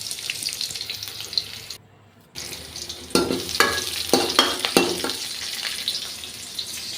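Onions and curry leaves are stirred in a hot frying pan for a kuzhambu, giving a hissing sizzle with several bursts of scraping and stirring after a short pause, close by and without speech.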